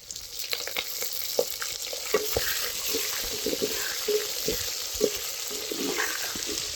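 Steady sizzling of whole small onions frying in oil, with scattered crackles and pops throughout and faint clinking in the background.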